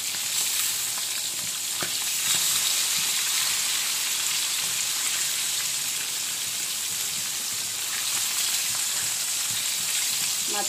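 Flipped fish pieces crackling in hot oil, a steady dense sizzle like light rain, close and even throughout with no talk.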